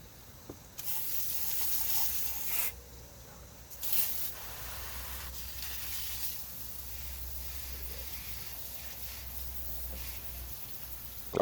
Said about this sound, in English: I'm going to spray it all out now.